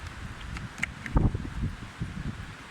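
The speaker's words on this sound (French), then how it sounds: "Bon, il y a du vent." Wind blowing outdoors, a steady low rumble with soft rustling and buffeting, plus a few scattered taps and brief noises, no speech.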